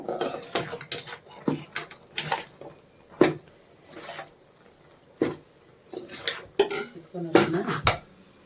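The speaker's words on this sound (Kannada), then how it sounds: "ಹಾಕ್ಕೊಂಡು ಚೆನ್ನಾಗಿ ಮಿಕ್ಸ್ ಮಾಡ್ಕೋಬೇಕು" Coconut holige filling being mixed by hand in a bowl, grated coconut worked in with intermittent clinks and scrapes of utensils against the bowl, irregular bursts at close range, with no one speaking.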